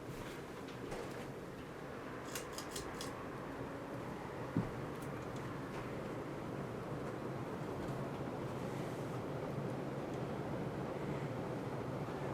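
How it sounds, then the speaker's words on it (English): Steady wind roars outdoors, buffeting the microphone with a constant low rumble and no voices. "It's very windy outside."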